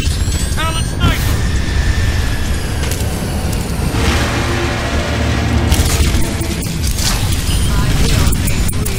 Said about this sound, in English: Dropship inbound.